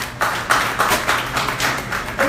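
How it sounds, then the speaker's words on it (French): At a photography festival in Haiti, a small audience claps in a quick, fairly regular rhythm, the claps close and moderately loud with no voices over them. "Je vous demande de les applaudir"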